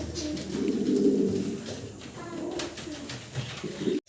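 Yellow Mumbai pigeons cooing close by, a few low, throaty rolling coos swelling and fading over a quiet background.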